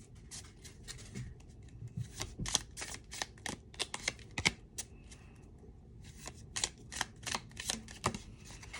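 Tarot cards are shuffled by hand in quick, crisp riffling bursts, close and fairly quiet, with short pauses between rounds and a slapping flick as a card flies loose.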